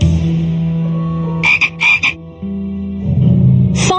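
Frog croaks from a Paw Patrol children's English-learning video game: a few short, raspy croaks in two quick bursts and one more near the end, over steady background game music.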